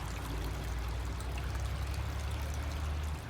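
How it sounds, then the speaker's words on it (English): Water from a creek runs steadily in a newly diverted channel beside an eroded driveway, close by, with a constant rushing, gurgling flow and no voices. "Got this creek going correctly."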